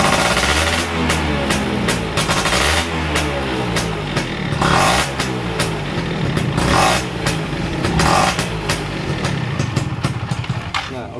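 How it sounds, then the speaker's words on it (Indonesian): A Yamaha F1ZR motorcycle with a worn spark plug runs with an uneven, sputtering engine note, popping and backfiring repeatedly as the throttle closes. The loud bangs recur irregularly throughout, with no talk. "Suara turun gasnya itu meletup-letup, pang pang pang pang pang."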